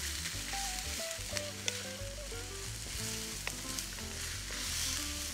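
Lumpia filling with green beans, heart of palm and carrots is stir-fried in a pan, giving a steady close sizzle and clicking stirring sounds, with a soft tune playing underneath.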